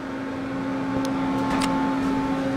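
A fan runs inside an OTIS Series 1 hydraulic elevator car, giving a steady, close, tonal hum with broadband whoosh. A few faint clicks sound midway.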